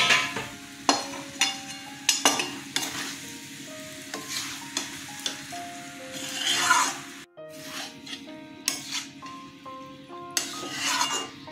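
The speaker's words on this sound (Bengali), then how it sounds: "মশলার মধ্যে ভালো করে কষিয়ে নিচ্ছি। আলু দিয়ে দিলাম," Potatoes fry in a pan of spices for a soybean curry, with a steady sizzle underneath and repeated scraping stir strokes at an irregular rhythm throughout, close by.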